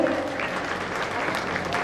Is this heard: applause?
yes